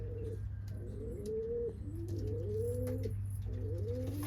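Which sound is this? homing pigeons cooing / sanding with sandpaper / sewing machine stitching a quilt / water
homing pigeons cooing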